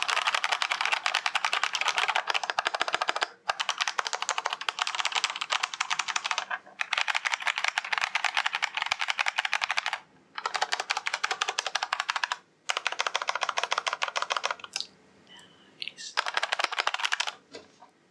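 Dense bursts of clacking keystrokes from a left-handed RGB-backlit keyboard fitted with yellow linear switches, fast steady typing close to the mic with a few brief pauses and no talking.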